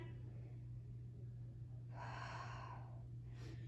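A deep breath drawn in and let out during a guided stretching exercise, heard as a soft gasp-like inhale in the middle and a shorter breath near the end, set over a steady low hum.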